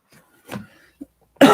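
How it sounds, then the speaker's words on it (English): A single sharp cough close by, following a few faint breathy sounds in near silence, from a lingering cough after a Moderna vaccine dose. "Still got this cough."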